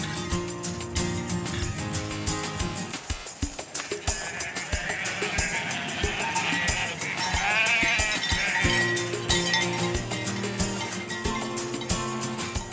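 A flock of sheep coming down a mountain slope to winter pastures in Corsica's Restonica valley bleats loudly and constantly, with clinking bells and hoof clatter, close and dense, with no talk.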